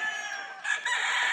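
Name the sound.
yellow-legged bulik rooster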